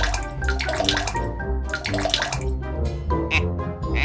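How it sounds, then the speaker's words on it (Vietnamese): A floor mop plunges into a bucket of soapy water, giving continuous close sloshing and splashing with a few bright drips and gurgles, no voices. "Cô ta đã nhúng cây lau sàn vào nước."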